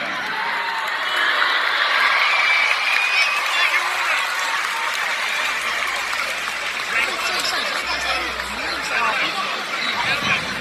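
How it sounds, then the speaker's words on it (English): A crowd at a KSI vs Logan Paul boxing event claps steadily throughout, dense and sustained, with scattered cheers and chatter mixed in. "A round of applause for DJ."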